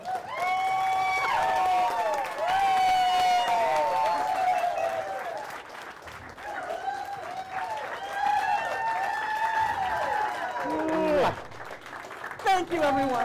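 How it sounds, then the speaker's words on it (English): An audience applauds at a business motivational event, a sustained wash of clapping running under prominent voices throughout. "Let's give this young, beautiful lady a round of applause."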